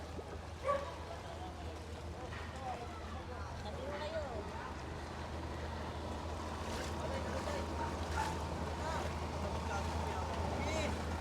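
A boat motors along a flooded street in Navotas, with a steady low engine drone and the churn of water running throughout, and faint background sounds above it.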